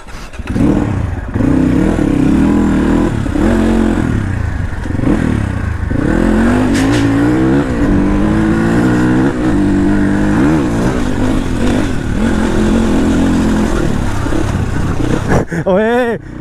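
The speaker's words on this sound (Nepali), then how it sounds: "अहिले चाहिँ सानो ए माथिको अफ रोड हान्न लाग्यो दाइको बाइकमा" A Crossfire RM250 dirt bike rides an off-road trail, its engine droning loud and steady with revs rising and falling, rattles from the rough ground, and a sharp rev burst near the end.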